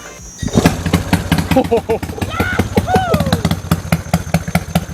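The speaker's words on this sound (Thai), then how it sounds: "ติดเครื่องกันดีกว่า" A Honda Dream Super Cub fitted with a Wave 125i short-stroke engine and a split exhaust fires up after a brief silence, then runs loud and close with a fast, choppy putter while people talk over it.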